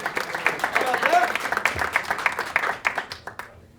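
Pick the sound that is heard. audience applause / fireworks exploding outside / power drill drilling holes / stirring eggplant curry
audience applause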